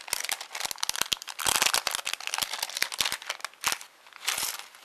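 A small paper bag is unwrapped, its crinkling and rustling coming close and loud in rapid, irregular bursts with brief pauses between.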